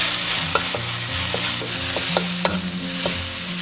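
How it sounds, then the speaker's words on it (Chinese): Scallion, garlic and red pepper stir-fried in a wok, a close, loud sizzle with repeated scraping and clinking of the spatula against the pan. "加入葱蒜、红椒炒香"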